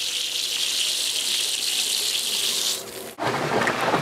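Water lifted by two 60-watt air pumps pours out in a steady, hissing rush, then breaks off briefly and comes back as a rougher splashing flow.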